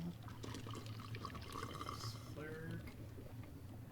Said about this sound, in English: I'll just pour the finished potion into one of these vials.